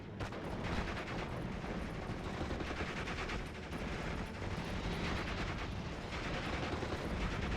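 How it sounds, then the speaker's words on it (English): Rocket barrage firing in a war strategy video game set in 1944, a dense, continuous roar of launches and explosions filling the whole stretch with steady loudness and no pauses. "We have another rocket barrage coming on in."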